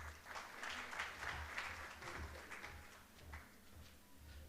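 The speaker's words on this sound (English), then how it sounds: "We welcome him with a big round of applause." Audience applause at a medical conference welcoming a doctor to the stage, a faint, dense patter of many hands clapping steadily for several seconds, heard from some distance in a hall.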